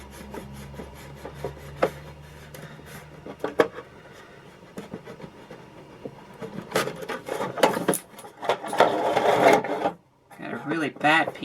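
A sharp chisel scraping a worn surface while refurbishing a Big Mouth Billy Bass novelty fish, short rasping strokes that grow busier and louder toward the end, with some speech mixed in.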